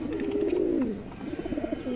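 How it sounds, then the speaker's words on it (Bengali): A loud-calling pigeon coos close by in a steady, throaty series of rolling calls, with no voices over it. "যারা কড়া ডাকের কবুতর খুঁজুন"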